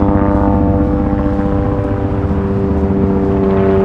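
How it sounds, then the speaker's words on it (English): A loud, steady mechanical drone with strong low tonal hum from a helicopter passing overhead a residential area of Scarborough, Toronto, in January, continuous throughout without voices. "There's a helicopter racing overhead."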